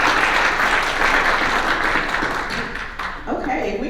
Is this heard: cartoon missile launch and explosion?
no